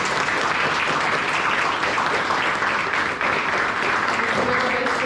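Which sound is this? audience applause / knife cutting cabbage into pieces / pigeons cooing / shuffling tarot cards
audience applause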